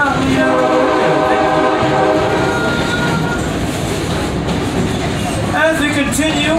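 A Stone Mountain tourist train rolls steadily along, its continuous loud rumble and wheel clatter filling the scene, with a horn-like tonal sound rising near the end.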